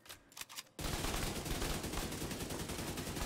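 Rapid automatic gunfire from a weapon in The Division 2 shooter game, a sustained dense burst starting abruptly after a brief quieter moment and continuing loud and steady to the end.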